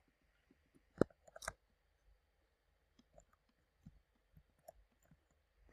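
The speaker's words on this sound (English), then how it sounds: "I don't know if you can hear my crunches." Faint, sparse crunching and clicking of crunchy food being chewed close to a microphone during a Bedwars gaming session, with scattered small bites and one sharper crunch near the start, otherwise quiet.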